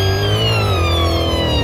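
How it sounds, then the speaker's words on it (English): Police cars in a Roblox game sound wailing 'whale' sirens, several overlapping sweeping tones sliding downward under a loud engine rumble, close and continuous. "Everyone have the whale sirens on, which is different."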